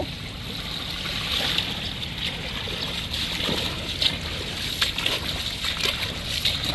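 A strong floodwater current surges and sloshes without pause, broad turbulent noise punctuated by occasional splashes, close and fairly loud.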